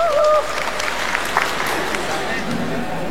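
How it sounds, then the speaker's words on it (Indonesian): An audience claps for a university choir at a formal academic ceremony. Dense, steady applause fills a short stretch, with a brief tone at the very start. "Tepuk tangan untuk Paduan Suara UNES."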